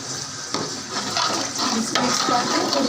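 Water sloshing and splashing as it is poured from buckets into a large cooking pot for chana pulao, a steady close-up rush with a few louder surges and no talk.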